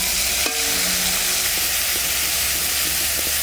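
Bay leaf, dried chilli, cumin and coriander paste fry in a pan for a cauliflower and potato curry, a loud, dense, continuous sizzle and hiss with a few faint clinks underneath.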